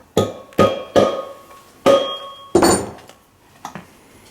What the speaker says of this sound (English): give it a quick tap with a plastic hammer.